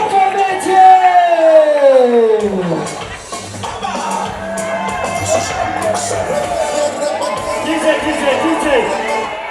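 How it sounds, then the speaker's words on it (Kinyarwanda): A crowd cheers and whoops to welcome comedian Macumi onstage, with a loud voice calling out over the start, then sustained cheering, chatter and clapping from a lively audience. "Macumi amashyi cyane twakire Macumi Lokomete"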